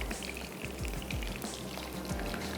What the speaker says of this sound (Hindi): तो चलें, इसको थोड़ा सा फ्राई होने देते हैं